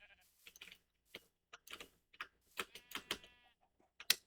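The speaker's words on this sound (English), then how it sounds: "I see a few more sheep over here" Sheep in Minecraft bleating in a scattered series of short, nasal calls, several overlapping, moderately close, with quiet gaps between.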